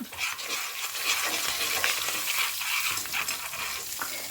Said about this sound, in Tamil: சும்மா 2 வாசனைக்கு பச்சை மிளகாயும் கொஞ்சம் கருவேப்பிலை, அதுக்கப்புறமா கொஞ்சோண்டு பெருங்காயம்